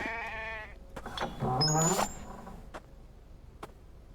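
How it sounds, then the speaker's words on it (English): A sheep in a video game bleats twice, a wavering nasal call, with faint clicks and game-like background noise between. "That sounds like it's a sheep."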